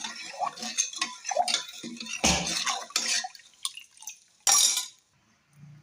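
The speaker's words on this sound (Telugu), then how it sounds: "టేస్ట్కి తగ్గట్టు కారం, వీటన్నిటిని ఒకసారి కలుపుకొని టేస్ట్ చూసుకుందాం" Lentil pappu charu with turmeric and chilli powder being stirred and mixed in a pot: close, irregular spoon scrapes and clinks with wet sloshing, a couple of sharper knocks, ending in near quiet.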